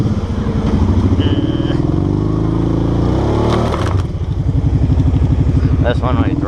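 A Kawasaki Brute Force 750 ATV spins its tires in Idaho clay mud, its engine droning loud and close with a rising rev midway and a steady throbbing pulse throughout.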